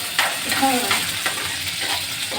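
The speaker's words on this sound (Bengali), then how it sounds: "পেঁয়াজগুলো ভাজা হয়ে যাচ্ছে।" Onions fry in a pot for pulao, a steady close sizzle with a few soft stirring scrapes, brief and moderately loud.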